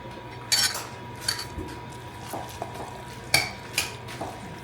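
A spoon stirring a creamy garlic lemon sauce with chicken base concentrate in a pan, giving a few soft scrapes and light metallic clinks spread out over a quiet, faintly sizzling background, close by.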